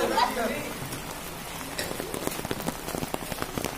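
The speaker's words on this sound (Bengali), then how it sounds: "প্রচণ্ড বৃষ্টি হচ্ছে" Heavy rain pours down outdoors during a school Saraswati Puja as the idol is carried by e-rickshaw, a steady dense hiss with scattered louder drops and splashes close by, no talk.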